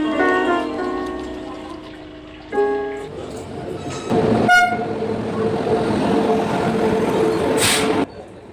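Horn blasts at a railway station while waiting for a train, with steady tones sounding at the start, again around three seconds and near four seconds, over a broad rumbling platform background of voices and station noise.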